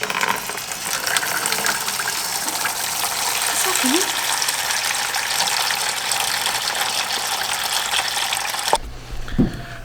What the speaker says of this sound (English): so that footage you saw was just Maddie emptying the gray water tank